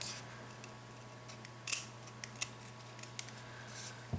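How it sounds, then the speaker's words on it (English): Scissors snipping tabs off canvas pieces in a quiet room, a series of short, crisp cuts spaced irregularly over a few seconds, close and clear over a low steady hum. "I'm going to see if I can cut these tabs off with just some scissors"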